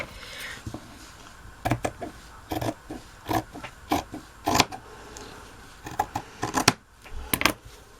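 Scissors snip through fabric for a porcelain doll pin cushion in a series of short, crisp cuts in irregular bursts, close by with a quiet room tone between them.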